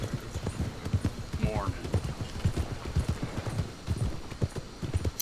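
Horse hooves clip-clop in steady rhythm on a road in Red Dead Redemption 2, close and fairly loud, while someone speaks over them and a brief whinny-like call rises partway through.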